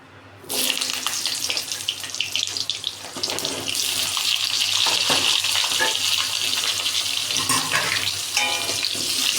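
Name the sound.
potatoes frying in oil in a wok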